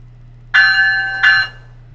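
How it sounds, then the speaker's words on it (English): An ESU V5 sound decoder plays a locomotive bell: two loud, clear metallic strikes about a second apart, each ringing out with a long sustained tone over a low steady electrical hum. "and it will actually play the bell"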